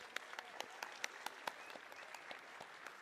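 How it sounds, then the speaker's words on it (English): Soft, brief applause from a small audience thanking three guests at a talk, scattered claps close together and fairly quiet. "can I just get a warm round of applause for our 3 guests taking the time?"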